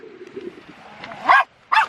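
A dog on a trip to Ireland, out near water, gives two sharp, loud barks close by, each a short burst, after a stretch of quiet rumbling background noise.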